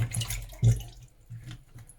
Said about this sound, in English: Then I add my gizzard into this water. And I wash it too